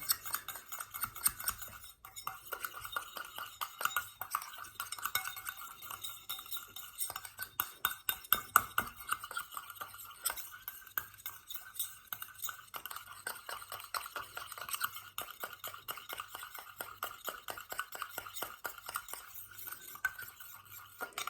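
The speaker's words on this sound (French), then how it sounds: "maintenant que j'ai mélangé tout ça" Spoon clinking and scraping against a chilled bowl while cocoa butter cream is stirred with active ingredients, a steady run of light, close taps and scrapes at low level with no talk.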